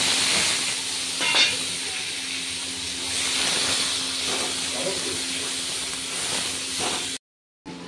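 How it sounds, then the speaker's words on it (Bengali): Chopped tomato hitting hot oil already spiced with cumin and bay leaf sends up a steady, loud hiss and sizzle that holds throughout, with a sudden break right before the end. "আর কুচিয়ে রাখা টমেটোটা দিয়ে দেবো।"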